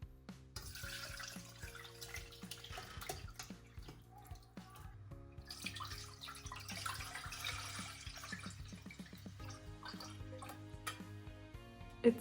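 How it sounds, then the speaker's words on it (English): Dandelion liquid poured through a strainer into a second pot, giving faint trickling and dripping with small clinks and taps of kitchenware scattered throughout, quiet and close with no talk. "You're gonna need a strainer and a second pot or a bowl where you're gonna transfer the liquid."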